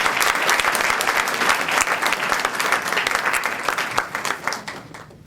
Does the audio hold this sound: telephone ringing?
no